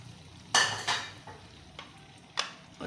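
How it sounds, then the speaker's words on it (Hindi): Potatoes go into a spice masala in a pan for a mixed vegetable sabzi. Soft, faint sizzling runs under several distinct scraping stirs spaced irregularly. "ये सबसे पहले हम आलू डालेंगे"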